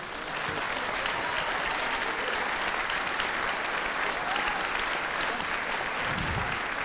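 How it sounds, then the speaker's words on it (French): Steady applause from a crowd, dense and continuous clapping throughout with no pauses. "nous allons applaudir mes petits porteurs"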